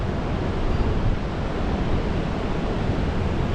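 Water streams and pours down the rock walls at Victoria Falls, a steady, close, dense rushing roar that holds even and unbroken throughout, with no voices.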